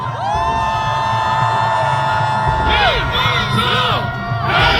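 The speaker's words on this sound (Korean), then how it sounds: "시민 여러분 큰 박수와 함성으로 우리 김문수 후보를 함께 해주십시오." Large election rally crowd in Seoul Plaza cheering and shouting loudly and continuously for a presidential candidate, with dense, sustained roar and whoops rising near the end.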